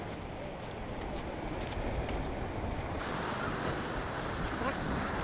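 Steady wash of surf on a beach blends with strong wind noise across the microphone, a continuous loud roar with no distinct breaks and no speech.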